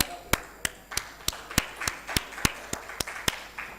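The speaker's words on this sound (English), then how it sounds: "a huge round of applause, of course, to Mr. Satish, sir." Sparse, sharp claps ring out at a business conclave, about a dozen distinct hand claps spaced roughly evenly, like a small scattered round of applause in a hall.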